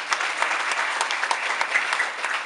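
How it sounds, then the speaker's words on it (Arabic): An audience at a live event applauds Uncle Hassan, a children's favourite, with dense, steady clapping filling the whole stretch at an even level. "تصفيق لعمو"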